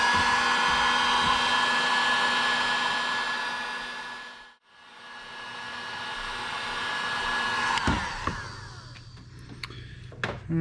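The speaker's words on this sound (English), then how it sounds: "just use a shrink gun or heat gun" Heat gun blowing steadily on heat-shrink tubing over a coolant sensor pigtail repair, a loud continuous whoosh that briefly cuts out midway, then restarts with clicks and handling noises near the end.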